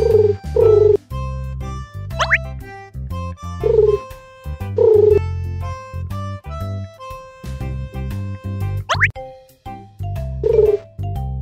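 Soft cartoonish carrier pigeon coos repeat several times over a looping musical backing in a BabyBus children's educational game, with two quick rising whistle-like sweeps.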